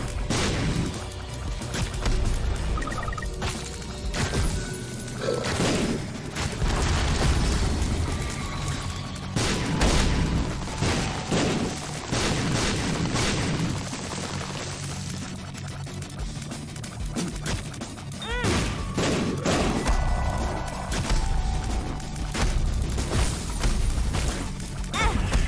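Bomb explosions in The Binding of Isaac, Jacob and Esau mode: repeated crashing blasts and thuds land in quick succession within a dense, loud wash of game sound.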